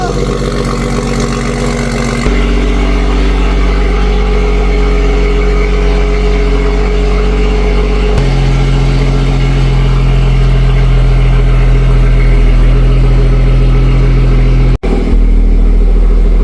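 A BMW 440i Gran Coupe F36 engine runs loud and steady, a deep continuous drone that shifts pitch partway through as it revs, heard close inside the car with no talk.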